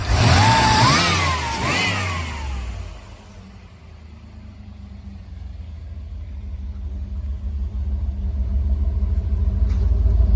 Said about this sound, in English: I'm going to rev it up one more time